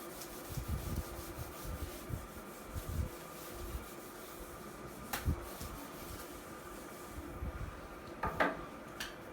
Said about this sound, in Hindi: पहले ये रब कर देते हैं सारा